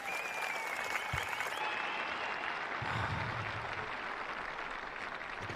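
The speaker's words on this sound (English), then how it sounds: "Just hear the echo of that applause." Spectators at the European Disc Golf Championships 2023 women's final round applaud from a distance, a soft, sustained wash of clapping echoing across the outdoor course.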